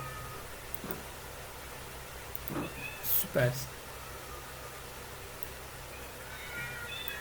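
Several short, faint cat meows in Minecraft come at scattered moments over a quiet background, with a voice speaking briefly in Turkish.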